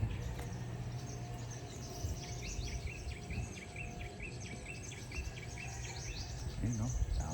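Repeated bright bird chirps and tweets over a steady outdoor ambience with insect buzz, fairly close and continuous throughout.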